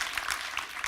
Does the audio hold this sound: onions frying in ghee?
no